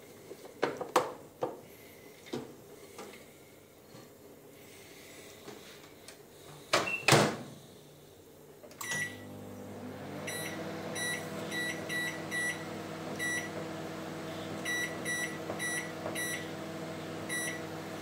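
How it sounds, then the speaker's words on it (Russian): Microwave oven reheating cut pork ribs, with a door clunk and handling knocks first, then a steady hum with repeated short electronic beeps from the control panel. "Ставим микроволновку."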